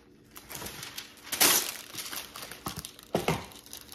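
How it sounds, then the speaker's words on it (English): A sheet of wax paper crinkles near the zipper of a vintage Coach leather coin pouch, with scattered close rustles and two louder bursts of crumpling, no talk. "You could just get some wax paper."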